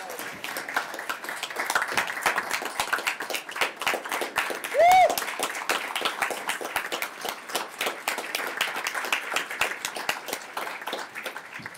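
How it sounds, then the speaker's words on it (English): A room at a planning commission briefing on the I-270/I-495 managed lanes project gives Anju Bennett a sustained round of applause, steady clapping from a crowd with a brief whistle-like tone partway through. "Please join me in giving Anju Bennett a hearty round of applause."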